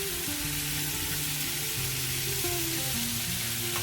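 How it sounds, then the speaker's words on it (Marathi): Grated coconut roasts in a pan with a soft, continuous sizzle and faint crackle, steady and close throughout with no voices. "वाटणात मी ह्याच्यात खोबरं थोडंसं नॉर्मली परतणार आहे"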